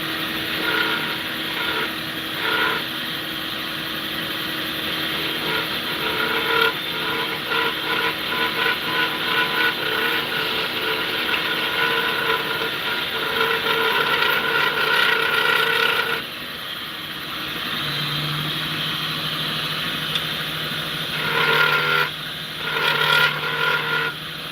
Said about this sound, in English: Vacuum cleaner sounds like it needs a break